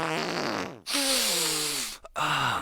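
A cartoon fart from South Park, a long, loud, buzzy blast whose pitch slides downward, followed by a short break and a second shorter burst.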